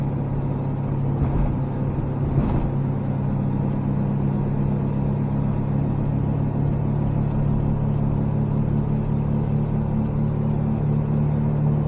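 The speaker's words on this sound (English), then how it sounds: "this quiet exhaust is actually tough to get used to." Renault race car powered by a Predator 670 engine with a quiet exhaust and a Comet 94C clutch, giving a steady, close, low engine drone and rumble that holds for the whole stretch with no talk over it.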